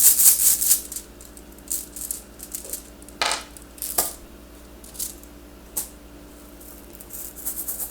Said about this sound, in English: Let's get you guys some runes.